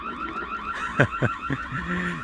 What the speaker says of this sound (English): this house has an alarm, I guess, for right at the beginning of his driveway